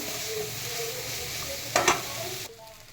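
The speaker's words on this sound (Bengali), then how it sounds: "এই যে সয়াবিনগুলো একটু ভেজে নেব।" Soybean chunks frying in oil in a pan give a steady close sizzle, with a short louder scrape or stir near the end before the sound drops away.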